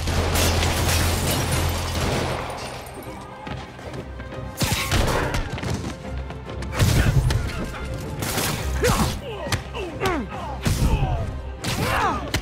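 Game gunfire and combat in Spider-Man Remastered, with repeated shots, bursts, thuds and crashes over a busy action soundtrack while voices talk now and then.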